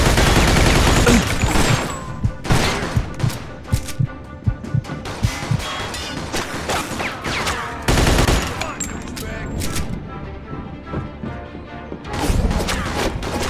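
Bursts of gunfire in a Mafia 2 shootout between gangsters Vito and Joe in a planetarium: loud, rapid volleys and heavy impacts that come in waves over a steady rumble, with shouting voices now and then.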